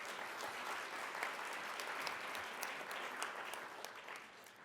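An audience gives a round of applause at a foundation awards event, with dense, continuous clapping from a crowd that fades slightly toward the end.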